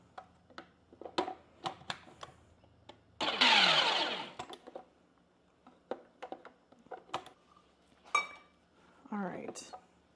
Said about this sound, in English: we're going to run our sugar through the food processor to make it even more fine than it already is.